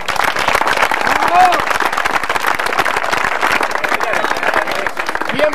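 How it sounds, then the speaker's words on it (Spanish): Applause for the organizers at a judicial workers' sports olympiad in Esquel, Chubut, as a crowd claps steadily and densely for several seconds, with some voices mixed into the clapping. "Pido un aplauso para los organizadores de este evento y hasta el próximo."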